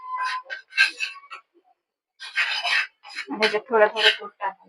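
A spoon scrapes and rasps against a pan while wheat flour is stirred into melted butter, in short, close, uneven strokes separated by brief pauses.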